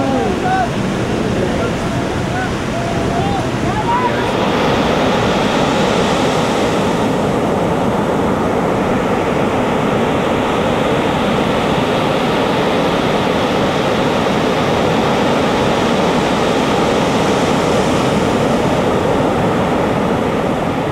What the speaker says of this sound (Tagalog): ang ganda ng alon o may alon